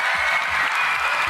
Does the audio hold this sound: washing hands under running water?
no